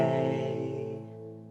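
A single sustained chord rings out as a deceptive cadence resolves to the minor la chord in the May Day carol 'Branch of May', a soft close tone fading over a second and a half.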